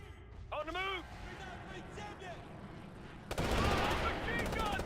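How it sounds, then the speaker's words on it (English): Machine gun fire in the video game Ghost Recon Future Soldier, a loud sustained burst starting partway in, with other gunfire and game sounds around it while someone talks over the action. "Machine gun there. Big gun right there."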